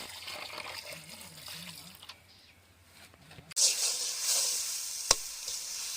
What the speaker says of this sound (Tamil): பூண்டு பேஸ்ட்டு நல்லா ஆட் பண்ணிட்டு நல்லா வதக்கி எடுத்துக்கணும்